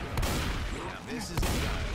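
Rapid gunfire from a Left 4 Dead 2 multiplayer match, loud dense bursts of shots filling the scene, with brief pauses and voices faintly mixed beneath the shooting.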